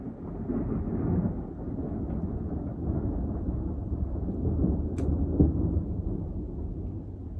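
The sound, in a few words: heavy rain and thunder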